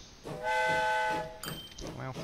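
A train in the video game Train Fever sounds a sustained, tonal whistle for about a second over a low rumble, followed by shorter, fainter tonal blasts.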